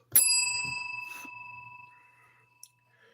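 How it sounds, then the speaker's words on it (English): A single bicycle-style bell is rung once on a live stream, loud and close, its bright ring fading slowly over about two seconds, followed by a small click. "That should get a bell."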